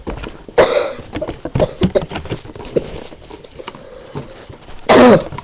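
Two short, loud bursts of coughing, one early and one near the end, stand out over a quiet indoor background with light rustling and handling noises.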